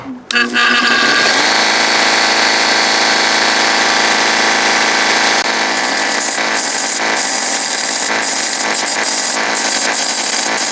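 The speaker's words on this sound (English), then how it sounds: "you can clearly see that the belt sander is hitting this spot" A loud, continuous belt-sander drone with steady grinding of metal that holds level throughout, no speech.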